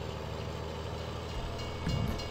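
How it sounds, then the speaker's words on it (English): A passing train in Farming Simulator 17 gives a steady, dense rumble of rolling rail noise at moderate level, with a heavier low thump near the end as it goes by. "suppose I should go now before another train comes along"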